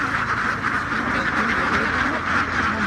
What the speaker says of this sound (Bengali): খাইতেছে হাঁসগুলো।